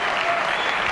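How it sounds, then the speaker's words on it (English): Audience applause at a rugby awards ceremony, a dense, steady wash of clapping from a large crowd filling the whole short moment at close, even loudness. "Let's give him a round of applause again."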